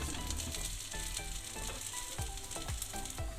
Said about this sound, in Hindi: पीठ को हम दोनों ही तरफ 7 से 8 मिनट पकने देंगे जब तक कि गोल्डन कलर आ जाए। अब पलटा के भी पका लेते हैं।